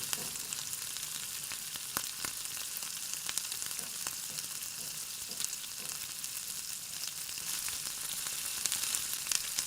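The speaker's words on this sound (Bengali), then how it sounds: "পেঁয়াজে হালকা বাদামি রং ধরলে এর মধ্যে দিয়ে দেবো চিকেনের টুকরোগুলো।" Chicken pieces frying with browned onions in a pan for Bengali chicken sapta, a steady soft sizzle with light crackling and faint stirring clicks throughout.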